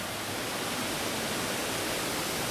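Water rushing through the little river channel of a mini golf course, a dense, even hiss of flow close by and steady throughout, with no voices over it.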